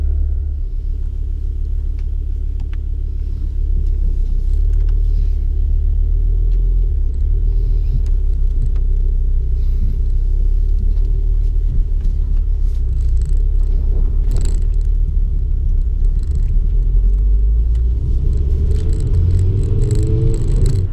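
A gas-powered car engine runs with its oil still cold, giving a steady low rumble and purr heard close up from inside the vehicle, with faint clicks and shifts in the hum and no talking.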